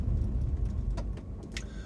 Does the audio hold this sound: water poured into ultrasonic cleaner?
no